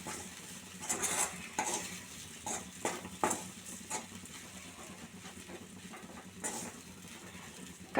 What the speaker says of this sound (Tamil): சேர்த்துட்டு நல்லா கிண்டி விடுங்க